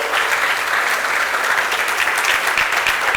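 A church congregation at a Good Friday service claps together in sustained, dense applause, loud and even throughout with no speech over it.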